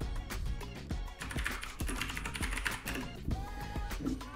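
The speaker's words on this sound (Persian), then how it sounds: "صدای جذاب کیبوردهای مکانیکی" Someone types quickly on a Keychron K2 mechanical keyboard with blue switches, producing a fast, uneven run of crisp clicky keystrokes, close and fairly loud, with no voices.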